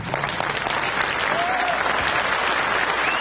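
Audience at a memorial celebration in downtown Los Angeles standing and applauding, a dense, sustained wash of clapping throughout, with faint crowd murmur underneath.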